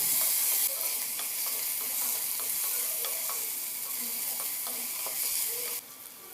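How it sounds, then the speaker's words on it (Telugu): Finely chopped onion with mustard and cumin seeds frying in oil for a spinach curry, a bright continuous sizzle with small crackles and stirring taps, fading slightly at the end, with no voices. "మీడియం సైజు ఉల్లిపాయ ఒకటి సన్నటి తరుగు వేసుకుని ఫ్రై చేసుకోవాలి కొద్దిసేపు"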